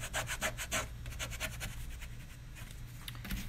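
The butt of a brush burnishes a DIY farm pillow with quiet, close rubbing strokes in a quick back-and-forth rhythm, with no talking.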